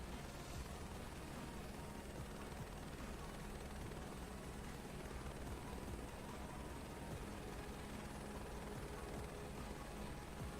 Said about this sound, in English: the heli is just flying and hopping in the air and down to the helipad